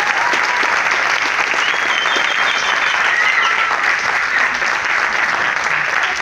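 Dense, steady applause and crowd noise from a dance-battle audience after a tied Afro-Peruvian versus breakdance round, loud and sustained throughout with no pauses.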